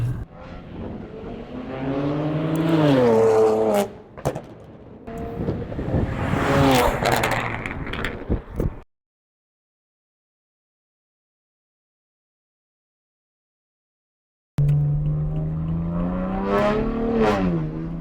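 A BMW 335xi's engine revs rise and fall under acceleration with sharp crackling pops from the exhaust, broken by a long silence before the engine roars back in.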